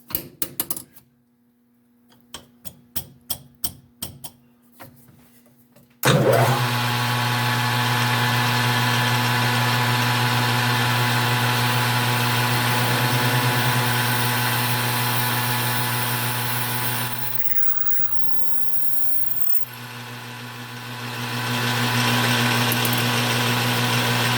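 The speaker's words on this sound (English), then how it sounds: "I'm gonna go ahead and drill this size anyways." A drill, boring a hole in an oil ring for a five-cylinder radial engine, starts after several sharp taps, then runs steadily with a loud, constant motor whine for most of the clip, dipping briefly near the end.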